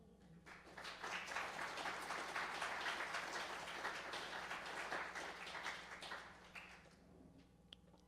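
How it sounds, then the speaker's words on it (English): An audience welcomes two mayoral candidates at a chamber of commerce debate with a swell of applause that builds quickly, holds for several seconds, then thins to scattered claps, heard from within the room. "Feel free to applaud."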